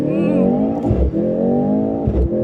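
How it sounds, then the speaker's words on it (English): A 2024 Mercedes-AMG C63 S E-Performance launching hard in race drive mode, a loud close engine note rising steadily in pitch through a quick gear change, with a brief dip before pulling again. "holding my foot on the brake, pinning the throttle, getting ready for restart, letting go"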